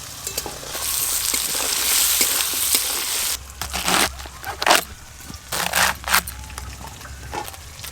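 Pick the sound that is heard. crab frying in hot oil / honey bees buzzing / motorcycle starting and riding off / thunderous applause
crab frying in hot oil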